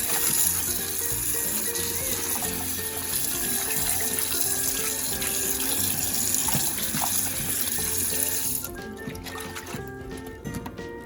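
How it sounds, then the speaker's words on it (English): Tap water runs steadily into a bowl while cabbage is washed by hand, giving a close, continuous splashing rush with small sloshes from the leaves. The flow eases near the end and no one speaks. "in a bowl under running water, just soak it with water and just clean each of it"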